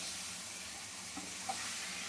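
Potatoes and spice paste frying together in a pan for a spicy egg curry, heard as a faint, even sizzle with a few soft stirring clicks near the end and no talking.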